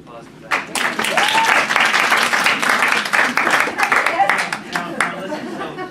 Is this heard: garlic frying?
no